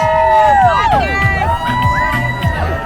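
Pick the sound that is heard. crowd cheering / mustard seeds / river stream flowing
crowd cheering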